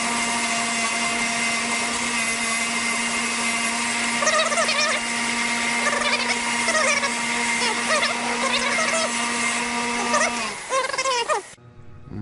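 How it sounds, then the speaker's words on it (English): Steady, loud whine of a bench wire wheel spinning as Detroit Diesel 60 or 50 Series head bolts are held against it to clean them, with scratchy grinding variations throughout before the motor cuts off and winds down near the end. "I'm going to go ahead and run them on a wire wheel here."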